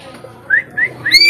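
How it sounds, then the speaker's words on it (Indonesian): A myna bird gives several loud, clear rising whistles at a hilltop tourist spot at Puncak Meranti, where children feed it corn. The whistles come in a short series, close by. "Ini ada juga burung, sejenis burung beok ya, dimain sama anak-anak, diberikan makan berupa jagung."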